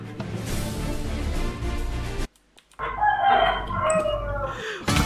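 Chickens cluck in the video game Minecraft, a dense noisy burst of fowl sounds that cuts off abruptly, then returns with game effects.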